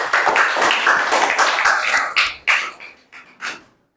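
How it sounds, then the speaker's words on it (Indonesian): Applause from a class of students in a classroom, a dense burst of clapping that thins into a few scattered claps and fades to silence. "Tepuk tangan untuk kalian."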